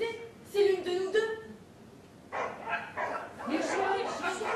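Dogs bark and yip a few times at close range in a French dramatic film scene, their sharp calls broken up and then overlapped by excited women's speech.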